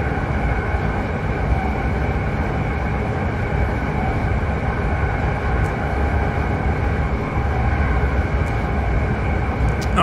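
SLT and SGM trains running in Train Simulator 2019: a constant loud rumbling rail drone with a steady mechanical hum and faint high clicks, unchanging for the full length.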